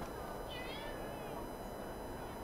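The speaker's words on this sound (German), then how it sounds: "Oh, guck mal, ein Kätzchen." A small kitten in Assassin's Creed Syndicate gives a single short, high meow over a constant noisy game background.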